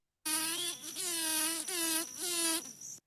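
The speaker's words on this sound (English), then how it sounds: "So there are some bees that vibrate the flowers and produce higher pitches." Bee vibrating a flower, giving a high-pitched, harmonic-rich buzz in three close, loud pulses of about a second each with slight pitch dips between them, heard alone.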